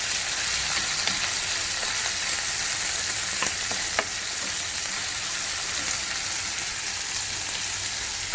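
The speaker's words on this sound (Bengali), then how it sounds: "পেঁয়াজটাকে এবার আমি ভালো করে ভাজবো" Sliced onion fries in hot oil in a home kitchen, giving a steady, close, dense sizzle with occasional crackles and pops and no talking.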